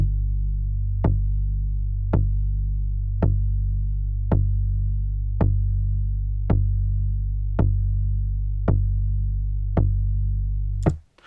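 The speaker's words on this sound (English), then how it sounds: "And then we've got this bass sound," A sustained low synth bass drone with evenly spaced clicky attacks pulsing about once a second, ending abruptly.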